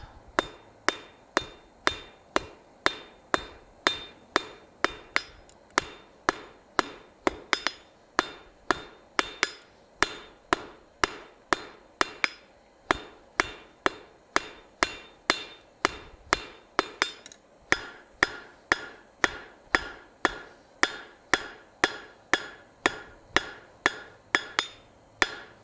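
Hot steel forged on an anvil into a decorative hacksaw: a long run of sharp, ringing hammer blows in steady rhythm, some strokes paired, loud and close with no talk.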